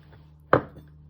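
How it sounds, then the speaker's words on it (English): A knife chops once through a tomato on a cutting board, a single sharp close thud with a short tail, otherwise quiet with a low steady hum behind. "So you first chop it in half"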